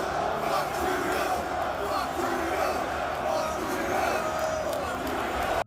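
A large arena crowd at a fight shouts and chants in unison, a dense, loud, sustained roar of many voices that holds steady throughout.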